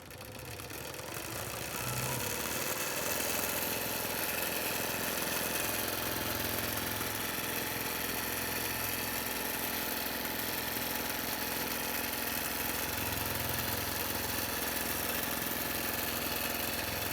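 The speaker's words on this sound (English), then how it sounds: "And I can let the Statler quilt that." A Statler longarm quilting machine stitching a Halloween table runner, giving a steady mechanical hum and whir that runs continuously and evenly at close range with no voices.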